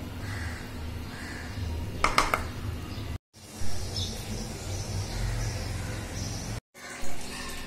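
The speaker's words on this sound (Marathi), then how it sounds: "चाळणीत ठेवलं की पाणी गळून जातं खाली।" Water from soaked moth beans steadily trickling and draining through a sieve, with a few sharp clinks early on and brief silent breaks.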